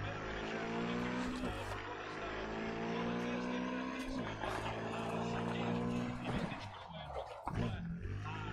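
A car skids in Cyberpunk 2077 under a steady, droning engine roar, with sharp tire-scrub bursts around the middle and a messier, louder stretch near the end.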